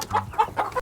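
Chickens in a coop clucking in a quick series of short, close calls with a faint low murmur underneath, coming from birds raised for blue-shelled eggs.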